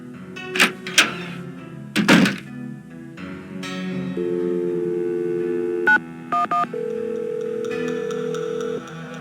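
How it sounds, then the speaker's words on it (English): In the Nancy Drew game, a phone in a ticket booth is handled with clunks and clicks, then dialed with a quick run of touch-tone beeps followed by longer steady tones, loud and close. "Go ahead and use the phone in the ticket booth."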